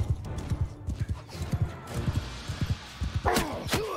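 Horse hooves clip-clop in a fast, steady gallop in the Mount & Blade II Bannerlord battle game, with a horse whinnying near the end over rumbling battle noise.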